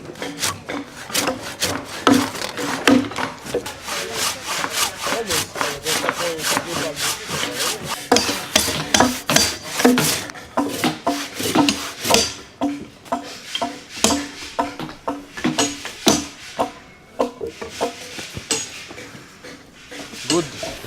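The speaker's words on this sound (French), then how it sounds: "La scie japonaise, donc on va scier en tirant, toujours en tirant comme ça." A Japanese pull saw cuts along a tree trunk in loud, rhythmic rasping strokes, each pull a distinct burst of wood grinding, repeated steadily and close up.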